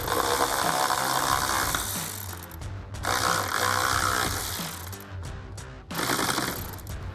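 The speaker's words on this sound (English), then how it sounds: "tighten these down with our 10mm socket on our ratchet" A ratchet with a 10mm socket tightens a bolt while a power running board is fitted to a 2019-2024 Silverado or Sierra 1500: a dense, steady mechanical buzzing clatter, close and continuous, with brief breaks near three and six seconds.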